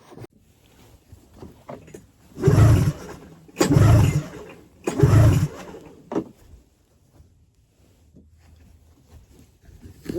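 An old snowmobile engine that sat unused for two decades, with its carbs wide open, is pull-started: three loud, evenly spaced rope yanks rasp and whir nearby, and the engine does not catch.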